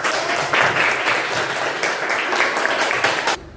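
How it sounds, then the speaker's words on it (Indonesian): Applause from a class of students in a school lesson, dense rapid clapping that holds steady for about three seconds and then stops abruptly. "Tepuk tangan untuk kelompok 2."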